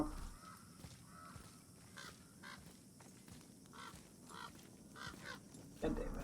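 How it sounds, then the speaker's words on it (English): Several crows caw repeatedly outdoors, some calls harsh and close and others farther off, over a steady background murmur. "Why do there have to be crows everywhere?"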